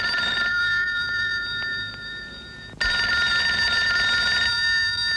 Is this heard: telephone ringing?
yes